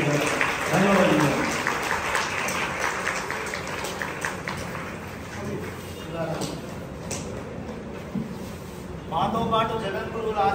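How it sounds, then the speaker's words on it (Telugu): An audience at a religious discourse gives a round of applause, a steady patter of many hands running for several seconds while a voice talks over it. "వారికి విలువైన చప్పట్లతో ఒకసారి నమస్కారం."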